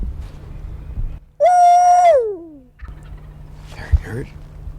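A wild turkey gobbles once, a single descending call ringing out loudly and clearly over quiet ambient noise, followed by fainter rustling and a brief distant sound.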